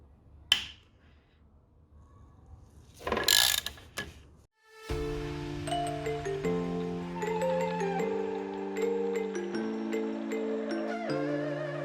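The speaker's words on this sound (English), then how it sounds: "Just gently loosen all 3 bolts." A ratchet loosens bolts on a Polaris Predator 500 quad bike during an oil change, giving quiet clicking and a couple of sharp metallic knocks before music takes over for the rest.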